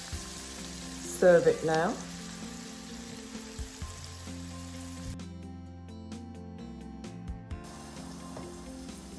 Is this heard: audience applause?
no